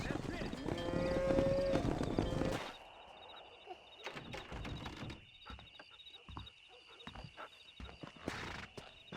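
A cattle herd lows and moos on a ranch in Red Dead Redemption, several calls over about nine seconds, louder at first and then sparser, with hoof clip-clop and a high ringing tone in the background.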